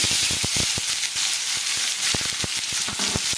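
Chopped onion frying in hot oil with cumin, a steady bright sizzle with scattered sharp crackles and pops, close and fairly loud without talk.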